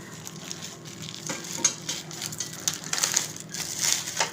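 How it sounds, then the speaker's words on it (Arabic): Dry breadcrumbs being sprinkled and worked into a raw chicken kofta mixture, producing a continuous close crinkly rustle and crunch with no talking. "هنا بقسماط اهو، احط شويه بقسماط كده"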